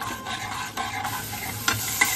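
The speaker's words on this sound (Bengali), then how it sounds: "এবার আমি টমেটো বাটা দিয়ে দিচ্ছি, দিয়ে এবার মশলা সহ ভালোভাবে কষাবো।" Spice paste and tomato paste sautéed in a pan for an egg curry, giving a steady sizzle broken by several distinct spatula scrapes and knocks, no voices.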